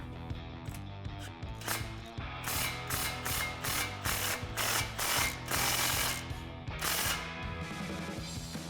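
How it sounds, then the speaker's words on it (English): Repeated rapid clicking of a ratchet wrench with a 16mm socket snugging an exhaust pipe clamp on a RAM 1500 AWE dual exhaust system, close and steady in bursts of ratcheting strokes over a low background hum. "we'll go ahead and snug that up, just like we did with the front, using our 16mm socket"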